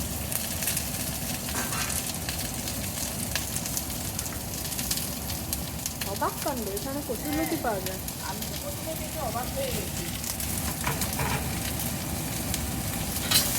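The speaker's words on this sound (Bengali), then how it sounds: "একটু তেল দিয়েছি। হ্যাঁ। আর এই পেঁয়াজটা দিয়েছি, ভাজা করবো।" Onions fry in a little oil in a pan while making kochur loti, giving a steady broad sizzle blended with a kitchen chimney fan's constant roar, with a person talking over it.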